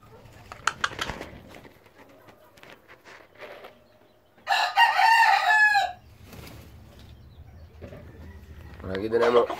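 A gamecock rooster crows once, loud and close, amid clucking and other bird calls, with someone talking in Spanish before and after.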